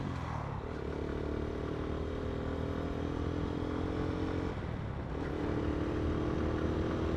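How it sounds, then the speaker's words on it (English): A motorcycle engine held at steady revs, then the throttle drops off around an upshift into second gear, a brief dip before the engine pulls again at a lower, even drone, close and loud with no talking. "off the throttle, in with the clutch, up into second, and then back off again"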